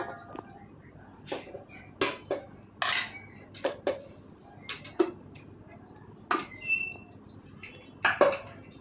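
A utensil scrapes and taps against a pot as layered rice is spread for chicken biryani, with sharp clinks in irregular bursts and a low background hum.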